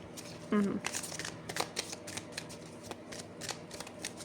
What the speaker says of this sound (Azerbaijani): kartlar töküldü